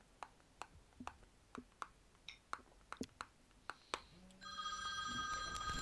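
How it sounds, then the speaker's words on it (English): A phone starts ringing with a bright, steady electronic ringtone in the final second and a half. Before it comes a series of sharp, irregular clicks like tapping. "I forgot to turn my other phone off."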